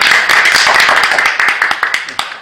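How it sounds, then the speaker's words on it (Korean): A small group in a press conference room claps at close range, giving a dense patter of sharp individual hand claps that thins out toward the end. "박수 치겠네요"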